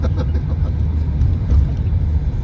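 A car driving on a snowy road in Canada, steady low engine and road rumble close by without a break, no talking over it.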